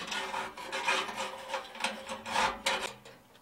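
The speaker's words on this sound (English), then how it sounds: "a bit of a scrape with this wire brush, and I'm trying to get down between the wall of the oven and this grill" A wire brush scrapes soot from the firebox of an Outbacker stove, reaching between the oven wall and a side grill; close, repeated rasping strokes in an uneven rhythm, each a short burst of scratchy friction.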